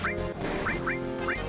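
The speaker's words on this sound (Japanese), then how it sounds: "わ、親鳥だ。" Mother bird creature crying out in the Final Fantasy VII video game, a series of loud, nasal quack-like calls repeating every half second or so over a busy game soundtrack.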